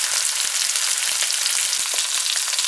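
Peppers for shrimp chow mein fry in a hot pan with a loud, dense, continuous sizzle and fine crackles, heard close up with no voices.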